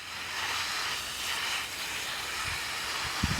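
Garden water spraying from a hose onto a bed of onions, a steady broad hiss holding throughout, with a few low thumps near the end.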